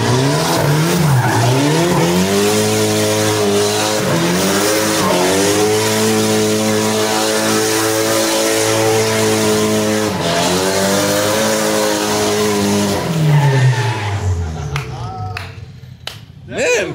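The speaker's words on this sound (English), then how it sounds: "I think something needs to do a burnout." A worn-out project car does a burnout, engine revving hard in long rising and falling pulls while the tires squeal and skid continuously for about thirteen seconds, loud and close, then easing off as brief voices come in.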